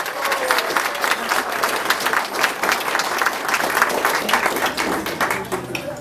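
Wedding guests clap steadily in a dense, fairly close burst of applause that holds at an even level throughout, with faint voices mixed into the crowd.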